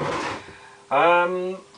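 A drawer slides and sticks partway, giving a short rubbing scrape followed by a loud, tonal squeal of about half a second, close by.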